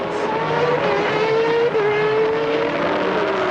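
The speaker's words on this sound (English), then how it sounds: "Now you're on board with Ayrton Senna going around a slower car." Onboard a Formula One race car at the 1993 European Grand Prix, the engine screams loudly and continuously at high revs with a brief dip and rise in pitch while passing a slower car.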